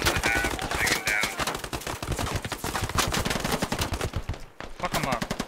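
Gunfire in the video game Squad during a hilltop assault after artillery: dense, rapid automatic bursts and overlapping shots fill the scene, loud and close, with a short lull near the end before firing resumes, and voices talk underneath.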